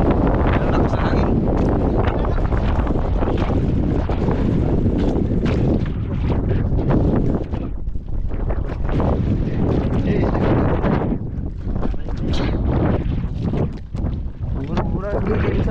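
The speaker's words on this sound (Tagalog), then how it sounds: "Lakas ng hangin." Strong sea wind buffets a microphone on a small fishing boat, a constant loud roar with gusty rumble throughout, while people talk over it.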